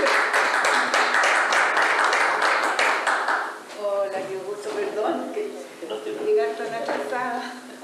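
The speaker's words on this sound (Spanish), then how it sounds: "Un aplauso, Fanny." An audience claps in a loud burst that fades after about three seconds, followed by voices talking and scattered claps over the rest.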